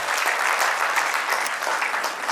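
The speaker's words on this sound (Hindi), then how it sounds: "एक ताली की गड़गड़ाहट तो आनी चाहिए" An open-mic audience breaks into a thunderous round of clapping, a dense, steady wash of many hands applauding together, fairly loud and uninterrupted.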